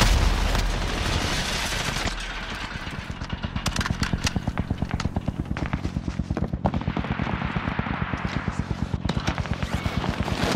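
A frag grenade goes off with a loud burst amid video game combat, followed by long runs of rapid automatic gunfire that rattle steadily close by and keep going to the end.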